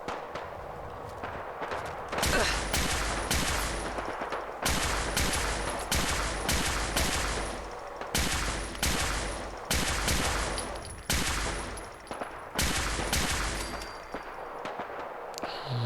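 Repeated loud gunshot bursts crack out in the video game Fallout 4, clusters of rapid shots separated by brief pauses, close and dominant with little talk.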